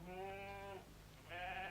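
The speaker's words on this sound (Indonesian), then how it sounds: "Lah itu yang di luar kambing siapa?" Goat bleating outdoors, two separate drawn-out bleats with a short pause between, clear and fairly close, with no voices over them.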